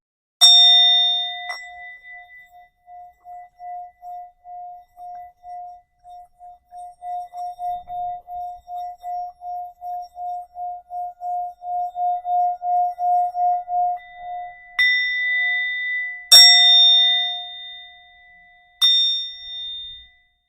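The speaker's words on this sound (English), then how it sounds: "And then I'm grabbing my sound bowl." A sound bowl is struck during a facial and rings out with a clear, sustained metallic tone that pulses and swells as it is circled. A few brighter strikes ring out near the end in a quiet room.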